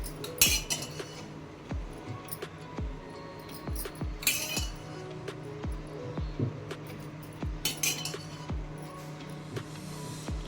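A spoon clinks and scrapes against a bowl while semolina dough with salt is mixed by hand, a fairly steady rhythm of close, bright taps and scrapes.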